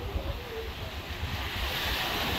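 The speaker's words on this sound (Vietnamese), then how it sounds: "Rồi ra ngoài đây hơi gió chút xíu các bạn." Wind gusting outdoors by the sea at Doc Let beach, a continuous broadband rush with microphone buffeting and waves beneath, loud and steady, growing slightly stronger toward the end.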